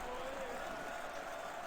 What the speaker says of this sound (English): they've actually got, like, player cheering and stuff as well